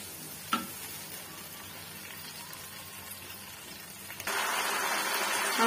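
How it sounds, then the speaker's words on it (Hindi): Chicken kofta frying in hot oil, a steady soft sizzle throughout that swells louder and denser near the end, with a brief clink early on. "इसको अब हम फ्राई कर लेंगे।"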